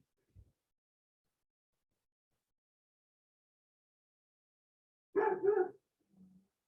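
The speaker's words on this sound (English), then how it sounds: "Dogs barking." A dog gives one short pair of barks, somewhat distant, in an otherwise quiet room, followed by a faint low whine.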